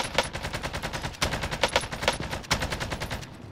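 AK rifle gunfire in a first-person shooter game, loud, rapid automatic bursts that fire almost continuously with brief breaks between strings of shots.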